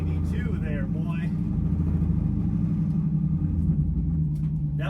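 A stock 392 engine idles at a drag racing event at Texas Motorplex, a low, loud, steady rumble close by, with someone talking briefly over it.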